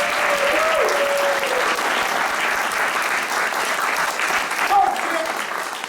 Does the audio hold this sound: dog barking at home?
no